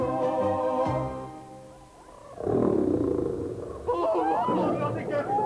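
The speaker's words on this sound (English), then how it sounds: "Have you ever heard a lion roar?" A lion roars in a children's program. A deep, rumbling roar swells in the middle and again near the end, after a musical opening with a soft background voice.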